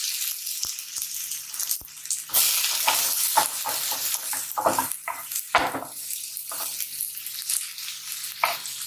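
Paneer bhurji hisses and sizzles in a pan over a high flame, with a spoon scraping and knocking against the metal several times in an irregular rhythm.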